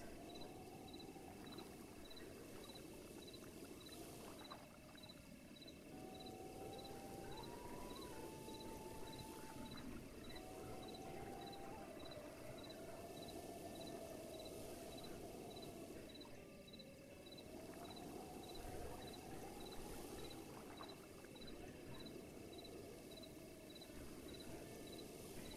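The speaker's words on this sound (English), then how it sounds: "The crickets, like actual crickets." Crickets chirp in the ambience of the game Breath of the Wild, a faint, steady, pulsing high trill over a low continuous background hum.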